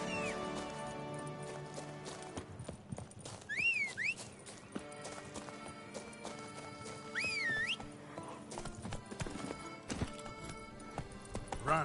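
Rhythmic clip-clop of the horse Roach galloping across ground in The Witcher 3 on PS5, steady hoofbeats throughout with game music and a couple of short whistle-like tones, no talk.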